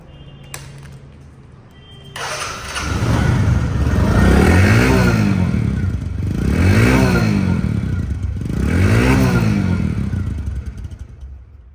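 A used Bajaj Discover 110cc motorcycle engine runs close by, revving up and easing off in three long swells over a steady rumbling idle.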